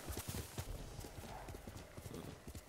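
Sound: horse hooves arriving when called in video game Ghost of Tsushima

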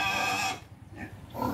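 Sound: pig on a farm

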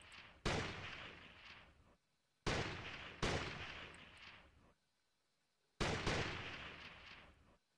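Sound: gunfire in a video game

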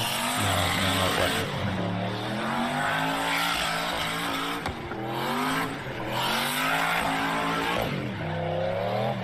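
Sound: rear-wheel drive car doing a burnout, tires squealing

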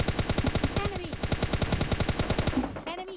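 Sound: cover gunfire in a battle royale video game

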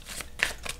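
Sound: shuffling a deck of botanical oracle cards

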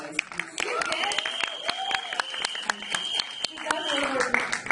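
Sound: audience applause

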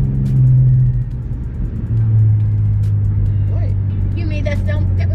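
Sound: car driving behind

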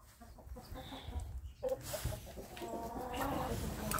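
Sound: roosters and chickens clucking on a farm

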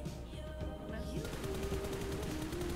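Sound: gunfire in the video game PUBG Mobile

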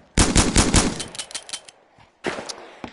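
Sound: shotgun firing in VR video game Gun Club VR

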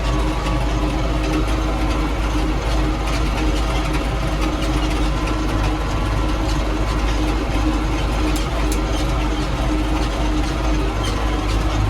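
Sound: 3095D tractor engine running

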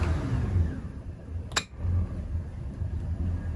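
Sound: Maxum 2400 SC3 Cuddy boat engine running

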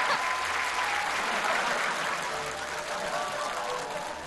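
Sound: audience applause

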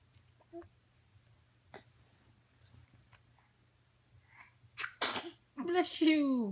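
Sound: sneeze

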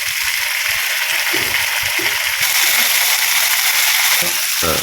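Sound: chicken frying in a pan on a wood-fired stove

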